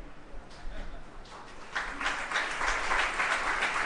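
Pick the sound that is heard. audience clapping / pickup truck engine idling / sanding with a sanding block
audience clapping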